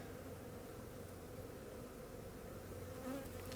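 Honey bees buzz steadily throughout an opened hive during a winter inspection, a dense continuous drone with no gaps.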